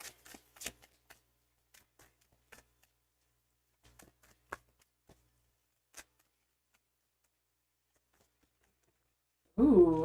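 A deck of tarot cards being shuffled by hand in short, crisp riffles and taps spread over several seconds, close and quiet, with a brief burst of speech at the end.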